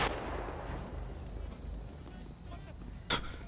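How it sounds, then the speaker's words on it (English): Gunfire in a video game, a sharp broadband shot near the end over a steady low rumble, with people chatting over voice chat. "who's shooting?"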